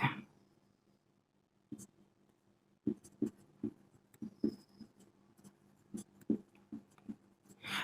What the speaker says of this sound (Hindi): नीचे लिखते हैं